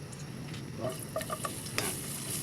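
Milkfish (bangus) adobo cooking in a pan, with a steady soft sizzle of frying under several light scrapes and stirring clinks from a utensil, at close range and moderate loudness.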